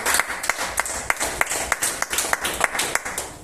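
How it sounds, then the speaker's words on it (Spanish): Congregation at a church service clapping in praise, a steady rhythmic run of sharp handclaps across the whole stretch, fairly close and without talk. "Dale palmas de alabanza al que vive, hermano."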